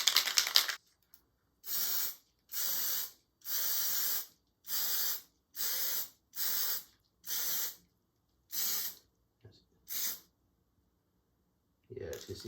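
Spray paint can hissing black paint onto a fabric archery hip quiver with taped-over zippers, in about nine short bursts of a second or so separated by quiet gaps; a voice speaks briefly at the start and the end.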